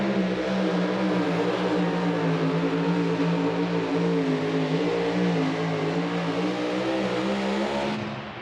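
Big Ed Red, a championship-winning super modified 2wd pulling truck, holds a loud, sustained engine howl with strong steady harmonics under full load for about eight seconds, then begins to ease off at the end.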